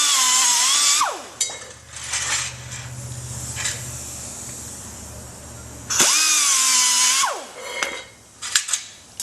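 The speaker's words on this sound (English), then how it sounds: "I have a little muffler cutter tool, a little whizzer wheel, Dremel, whatever you want to use." A Dremel-style cutoff wheel slicing through muffler straps during a Witchdoctors muffler install, two loud high-pitched whining cuts that spin up and wind down, separated by quieter clatter and handling of metal parts.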